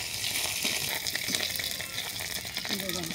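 Dried fish fries in a pan of hot oil with a continuous close sizzle and soft bubbling, steady throughout.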